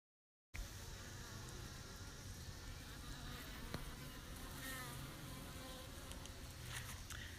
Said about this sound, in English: The beehive is swarming with activity today.